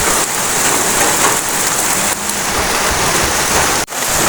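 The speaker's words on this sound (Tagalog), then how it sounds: "Sobrang lakas yung ulan." Heavy rain pouring outdoors at a fish pond, a dense, steady hiss of drops hitting water and surfaces, loud and continuous throughout with no voices.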